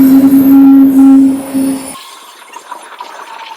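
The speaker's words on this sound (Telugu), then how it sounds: "ట్రైన్ వచ్చేసింది." A train rolls through a railway crossing with its gate closed, a loud steady rumble with a strong droning tone that cuts off after about two seconds, leaving quieter distant rail noise and ambience.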